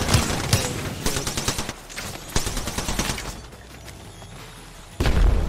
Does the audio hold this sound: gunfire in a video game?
yes